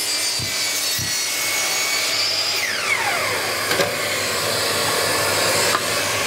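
A miter saw cuts a wooden board for a boot rack while a dust extractor runs: a continuous whining drone with a falling pitch sweep partway through and a few short knocks, loud and close throughout.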